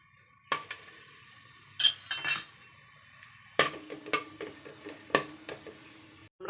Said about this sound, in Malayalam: കുറച്ച് കായ ഒന്ന് വറുത്തെടുക്കാം.